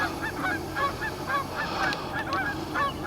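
A goose near an island nest site honks repeatedly in a steady rhythm of loud, close calls, with no voices.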